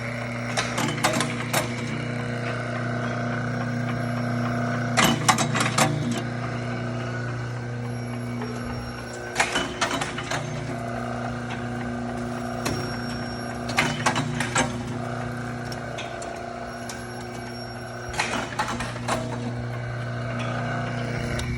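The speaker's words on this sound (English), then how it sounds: "Dropper motor on." A Belshaw Century 400 C400G gas fryer's dropper motor runs with a steady mechanical hum, broken by loud ratcheting clunks that repeat roughly every four to five seconds, close by and with no voices.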